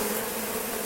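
Honey bees drone steadily at an open hive while frames are shaken and smoked during a colony inspection, a close, continuous buzz with no talking.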